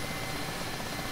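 Mi-8 helicopter engine and rotor in the flight simulator DCS World, a steady dense whine and rumble filling the whole moment, loud and continuous with no voices.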